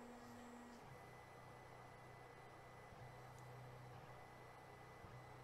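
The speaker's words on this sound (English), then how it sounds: "the printer is now doing a 9-point bed leveling routine" Stepper motors of a Geeetech A30 3D printer hum and whine steadily through a 9-point auto bed leveling routine, with tonal pitches shifting and short pauses as the probe head moves between points.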